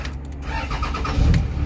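A diesel hotshot truck engine with a failed VGT controller cranks and catches, a steady low mechanical rumble that swells toward the end, close and loud with no talk.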